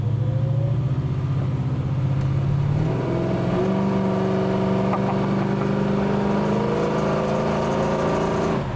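A 1968 Dodge Dart GT with a 440 engine accelerates hard, its loud, close exhaust roar climbing steadily through a gear change near three seconds and continuing to rise without any talk.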